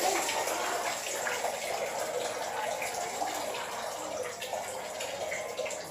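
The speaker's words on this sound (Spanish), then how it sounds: "Para que salga el agua, mira," Water flows out of a tank in a steady, fairly loud rushing stream that runs continuously, with faint voices in the background.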